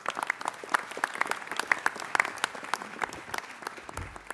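Audience applause fills a city council meeting chamber, steady dense clapping from a crowd carrying on for several seconds, fairly loud and close, with no speech over it.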